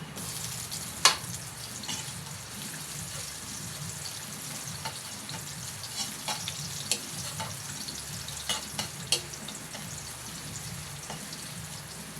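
Ginger sautés in a pot for tinola with a steady, moderate sizzle, and scattered stirring clicks and light clanks rise over it.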